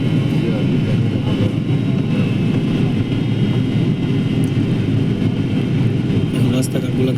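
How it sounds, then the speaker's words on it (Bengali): A passenger airliner descends low over Dhaka, its engines giving a steady, loud, broadband roar heard from inside the cabin, continuous and unchanging throughout. "এখন বর্তমানে আস্তে আস্তে বিমান অনেক নিচে নেমে গেছে"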